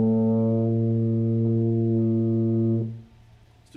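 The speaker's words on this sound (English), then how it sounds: "Okay, play that A and match Matthew's pitch" Tuba holding a long A on the second valve, one steady, full low brass note sustained nearly three seconds and then released, heard alone up close.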